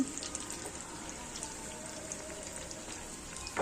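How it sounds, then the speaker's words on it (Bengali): Hot chops frying in oil give a steady, dense hiss with fine crackle that runs unbroken and close for the whole stretch. No one speaks. "গরম গরম চপ ভাজছি"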